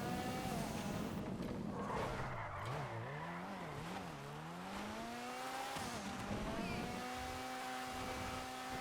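Omnis rally car from GTA V, modeled on an old Audi Quattro, revving hard with a rising and falling engine note that wavers up and down, then climbs into a sustained high whine, mixed with tire skidding and no talking.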